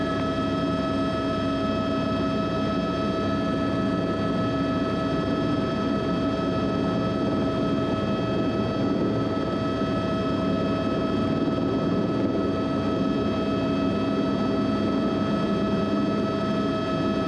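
A training helicopter in flight produces a steady, loud, continuous drone with constant tonal whine throughout, no voices heard.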